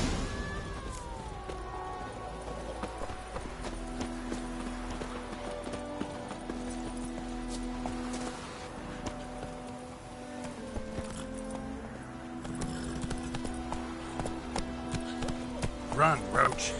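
Roach the horse galloping in Witcher 3, rhythmic hoof clip-clops under game music and speaking voices, moderately quiet, with hoofbeats growing more distinct toward the end.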